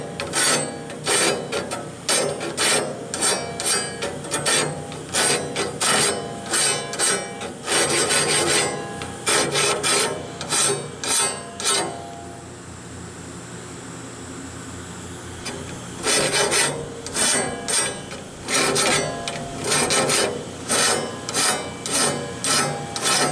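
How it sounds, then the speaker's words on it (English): A hand file rasps on a Woodmizer LT15 sawmill band blade in quick, rhythmic strokes, close and clear, with a pause of a few seconds in the middle before the filing resumes. "if you're sharpening up, filing up with this, or filing down"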